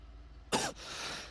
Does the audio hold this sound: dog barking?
no